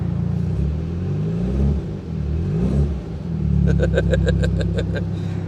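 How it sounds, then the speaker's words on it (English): An Alfa Romeo engine with an aftermarket exhaust revs up and down through a loud, throaty note, rising and falling several times close by, ending in a rapid popping burble. "I think there's a different exhaust than stock on this baby. Can you hear?"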